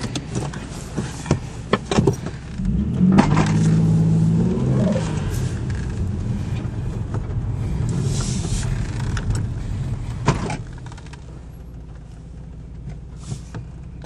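A black Nissan Stagea with a 2.5-litre V6 turbo pulls away and drives, its engine rumbling and rising as it accelerates, then settling to a steadier cruising drone and easing off toward the end, heard from inside the car.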